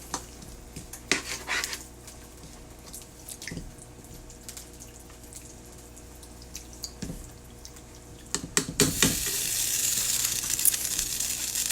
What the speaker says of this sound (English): Add some more water to this.